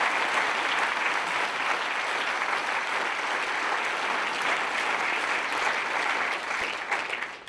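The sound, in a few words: audience applause at change of command ceremony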